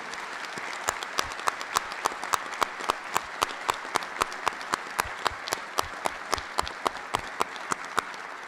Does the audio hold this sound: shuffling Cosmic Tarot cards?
no